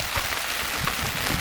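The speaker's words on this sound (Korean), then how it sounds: "비 온다." Rain pattering steadily on a tent during a windy, rainy camping trip, a dense, even hiss of drops with soft low thumps, close and continuous with no voices.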